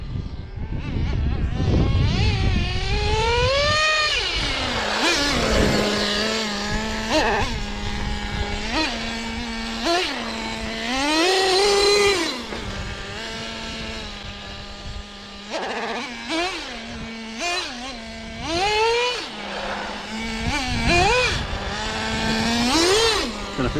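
RC10GT radio-controlled car with a Traxxas 3.3 nitro engine, revving repeatedly in sharp rising and falling bursts between a high-pitched idle, close and loud throughout.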